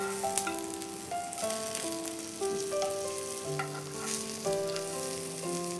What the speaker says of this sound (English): we'll cook them on a medium flame till they turn golden brown in color from both the sides